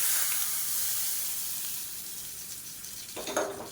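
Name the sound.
mustard seeds, urad dal, cumin, chillies, curry leaves tempered in coconut oil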